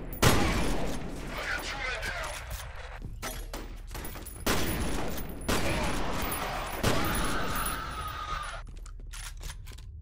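Repeated shotgun blasts in a first-person video game, loud sharp bursts spaced a second or two apart over steady background game noise, with a voice talking between shots.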